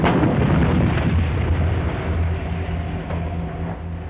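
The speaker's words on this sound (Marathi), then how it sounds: "भारतात बोफोर्स तोफा म्हणून ओळखल्या जातात त्या याच तोफा." Heavy Bofors artillery guns boom in a deep, sustained rumble that stays loud throughout, with layered low reverberation and no pause.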